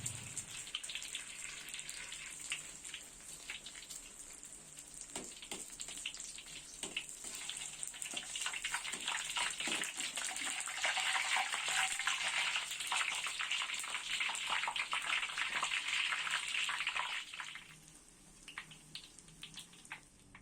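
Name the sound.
frying honeycomb egg batter in hot oil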